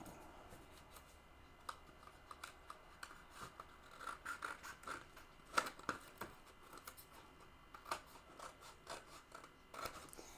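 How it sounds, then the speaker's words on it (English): Scissors trimming material during an at-home craft session, faint, irregular snips and rasping rubs close by, scattered across a quiet background. "Let's trim that one with the scissors."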